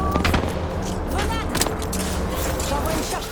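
Gunfire and a grenade blast in a first-person shooter game, bursts of shots and a thump under a busy mix of game effects, with a player talking over it.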